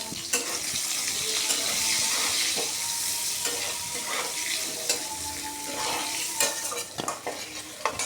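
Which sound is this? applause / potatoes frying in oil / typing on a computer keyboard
potatoes frying in oil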